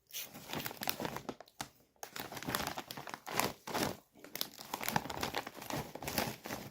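Close, continuous crinkling and rustling of a plastic snack bag of ketchup-flavoured chips being opened and handled, with brief tearing bursts and short pauses, no talking.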